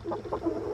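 A backyard rooster gives a few soft, quick clucks close by, short tonal bursts over a quiet background.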